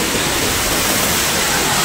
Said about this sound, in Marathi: आवाज येतो तुम्हाला पाण्याचा. नदी खूप जोरातच आहे इकडे.